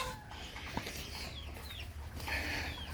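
Backyard chickens cluck steadily over a dull outdoor rumble, with a few brief higher calls rising above the flock's low chatter.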